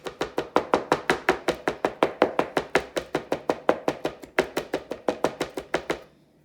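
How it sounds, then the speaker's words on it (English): Knife chopping fresh thyme on a board, about thirty quick, evenly spaced sharp taps in a steady rhythm, close and clear with no talking, stopping abruptly at the end. "Chopping that up with the thyme."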